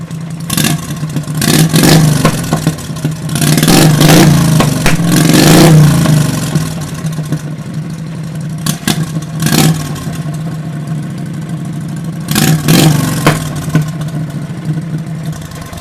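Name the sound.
carbureted car engine running and revving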